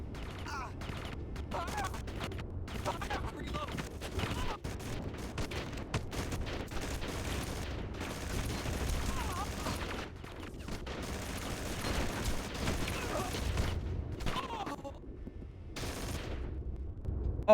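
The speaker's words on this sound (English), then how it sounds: "I love it when you can fire like one at a time when you're dual wielding." Dual-wielded guns in a PlayStation shooter fire one at a time in quick irregular shots, mixed with dense game effects and music throughout, with a voice talking over parts of it.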